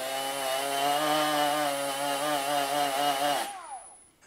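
A Bosch GWG 12V-50 S cordless 12V grinder runs at steady high speed with a strong harmonic whine, then spins down and stops near the end, heard alone without talk.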